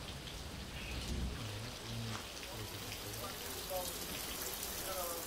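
Steady rain falls outdoors in Kozak, a continuous even hiss of drops on surfaces, with faint voices murmuring in the background.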